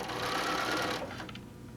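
A sewing machine stitches a quilt through neutral fabric, its motor running in a fast, steady whir at close range, then easing off briefly near the end. No one speaks over it.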